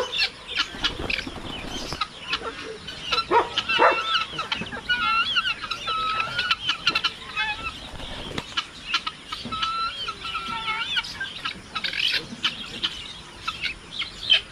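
Young chicks let out of their coop on a farm, with a turkey and guinea fowl nearby, cheep and cluck in steady overlapping calls close by, with a rooster-like call and light rustling in between.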